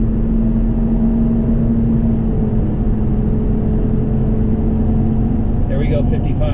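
A Ford Excursion pulls away and accelerates toward 55 mph, its engine a loud continuous drone with a steady hum that holds level from start to finish, heard from inside the cab.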